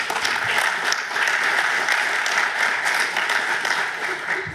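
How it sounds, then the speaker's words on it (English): An audience at a digital transformation summit session claps for the speakers, a steady, dense round of applause that fills the room from start to finish without a break. "Give them a round of applause."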